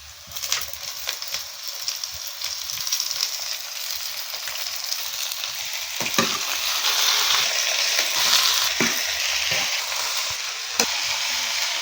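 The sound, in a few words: amaranth leaves frying in oil with chili and onion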